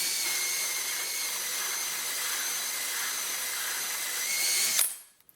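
A power drill whines steadily as a hole saw grinds through material, then the motor cuts off and spins down near the end.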